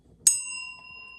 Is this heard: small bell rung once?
yes